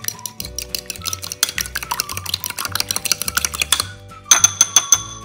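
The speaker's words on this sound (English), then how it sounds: "Two eggs. Mix it up." Two eggs whisked in a bowl for egg fried rice, rapid rhythmic clinking taps of a utensil against the bowl in quick bursts with brief pauses, loud and close.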